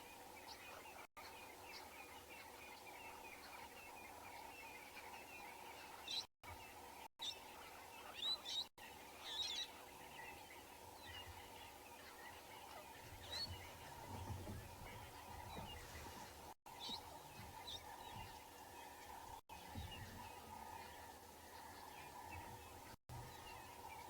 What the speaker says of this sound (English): There's some hornbills calling, some impalas in front of us.